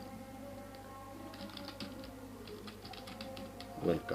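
Typing on a computer keyboard while writing Bangla text: soft, quick key clicks come in small clusters at a modest level, and a voice speaks briefly near the end.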